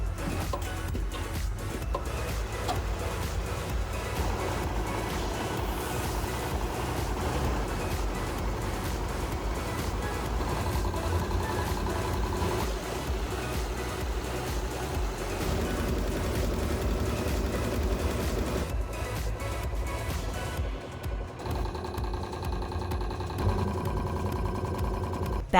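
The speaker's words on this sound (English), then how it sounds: "Begin the tufting process for the CAL logo." A tufting embroidery machine with independent motors stitches dense loops for a CAL logo on a hoodie, running as a steady mechanical whir with rapid rhythmic stitching throughout.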